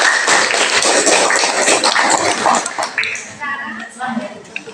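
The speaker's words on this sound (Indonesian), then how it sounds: "Aplaus untuk pemainan." Applause from a classroom audience for a student group presenting a social studies lesson: about three seconds of dense, broadband clapping that quickly thins out as a voice begins speaking.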